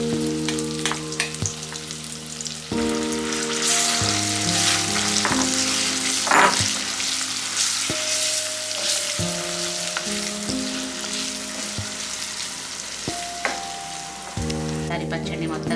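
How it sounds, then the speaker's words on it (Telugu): Tomato pickle stirred into a hot sizzling tempering in a pan gives a steady frying sizzle with stirring scrapes, alone and close, under background music. "ఇప్పుడు ఇందులో మనం ముందుగా ప్రిపేర్ చేసి పెట్టుకున్నాం కదా టమాటో పచ్చడిని ఈ తాలింపులో వేసుకుందాం"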